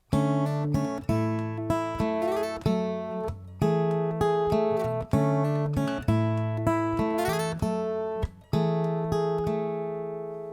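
Acoustic guitar picked fingerstyle, repeating the bright, rhythmic main riff of a song, plucked chords and melody notes, close and clear, with no voices.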